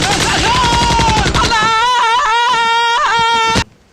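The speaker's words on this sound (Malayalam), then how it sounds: "സ്ക്വാഡിലുള്ളവർ ഫ്ലെയർ ഗൺ വെച്ച് ആകാശത്തിലേക്ക് 3 റൗണ്ട് വെടിവെക്കും." Rapid bursts of flare gun fire from a BGMI game squad shooting three rounds into the sky, loud and close, layered with a sustained musical tone before cutting off abruptly.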